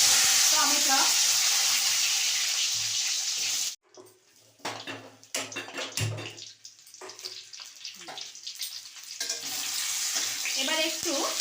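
Tomatoes drop into hot white oil in a kadai and fry loudly, a strong close sizzle that gives way to softer crackling and spattering before building up again, with no talk over it.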